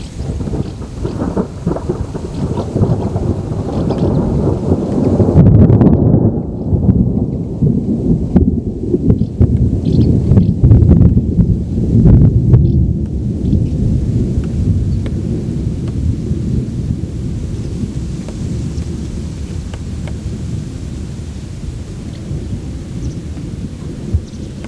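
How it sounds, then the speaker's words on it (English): Heavy thunder rolls through a thunderstorm with steady rain on the Camino Francés between Astorga and Foncebadón, loud low rumbling swelling and fading over a constant rain hiss. "Every so often there's a lot of thunder."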